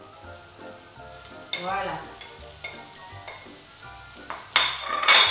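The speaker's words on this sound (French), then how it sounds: "on va chauffer notre morceau de beurre où on va déjà faire suer nos petites échalotes qui ont été hachées préalablement" Chopped shallots sweat in melted butter in a pan, a soft sizzle running beneath someone speaking, with a brighter burst of hissing and spatter near the end.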